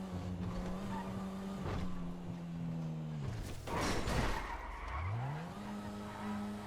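A car in GTA V spins out, its engine note dropping and then climbing again around a burst of skidding tire noise in the middle, with the motor droning steadily throughout and no voices.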